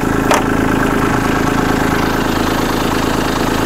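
A Kubota B2650 compact tractor engine idles steadily up close, a loud, even diesel chug holding the same rhythm throughout with a brief higher click near the start.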